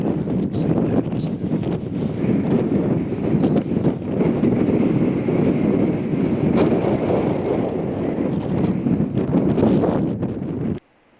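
Extreme wind on open Kansas ground roars and buffets the microphone in a loud, constant rumble with gusting flutter, cutting off abruptly at the end.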